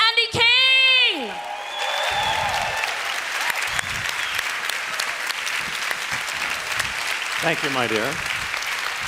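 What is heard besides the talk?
audience applause welcoming a speaker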